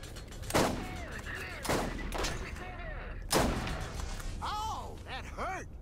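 Gunshots ring out in the Borderlands shooter game, several sharp loud blasts spaced about a second apart with echoing tails, followed by whooshing ricochet-like effects.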